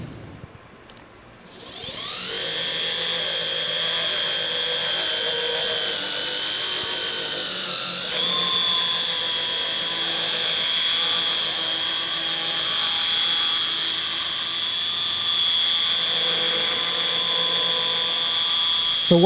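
A power polisher buffing grime off the trim of a Tesla Model 3 Standard Range: a high, steady whine spins up after a brief quiet start and holds close and loud, dipping slightly in pitch once under load.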